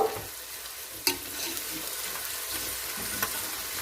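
Chopped onions fry in a pan for a Bolognese ragù and are stirred, a spoon scraping through a continuous bright sizzle, with one sharp clack near the start and a few lighter knocks, all close and without voices.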